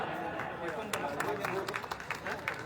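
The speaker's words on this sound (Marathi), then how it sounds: "जोरदार टाळ्या" Loud applause from the crowd at the opening ceremony of a district council employees' divisional sports event in Akola, as a parade float passes. Dense, continuous clapping sits close, with cheering and crowd noise mixed in.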